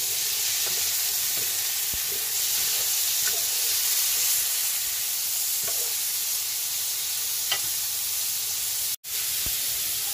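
Spicy chicken liver sautés in a hot pan with a dense, steady sizzle and hiss, broken by faint stirring clicks and one brief cutout near the end.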